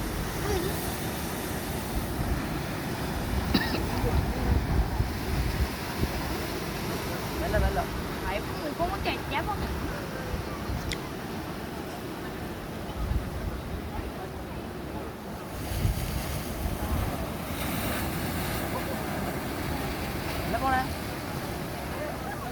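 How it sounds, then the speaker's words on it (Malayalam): Steady outdoor rumble of wind and surf at Payyambalam Beach, a constant low roar with gusty buffeting throughout, no distinct voices standing out. "നമ്മൾ പയ്യമ്പലം ബീച്ച്"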